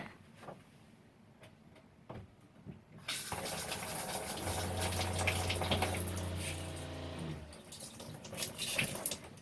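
Water gushes steadily from an oxygenic water-saving shower head installed in an RV, starting abruptly after a quiet moment and running loud and close for several seconds with a low hum beneath it.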